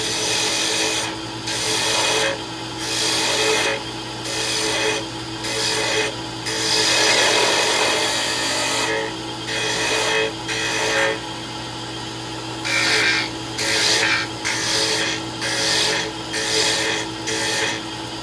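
A high-speed steel turning tool takes light cuts on a sapele mahogany fountain pen blank, giving a loud raspy scraping that comes in repeated short bursts with brief pauses between passes.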